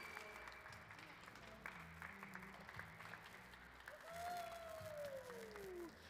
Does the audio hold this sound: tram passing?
no